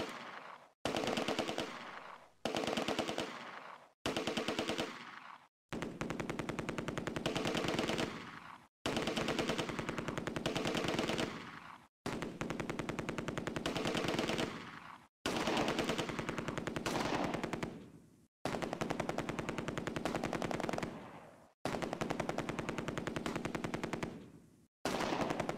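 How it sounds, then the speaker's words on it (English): Loud, repeated bursts of machine-gun fire from German positions in the WWII video game Close Combat: A Bridge Too Far, during the assault on Arnhem West, separated by short gaps. "Firing continues from the German positions,"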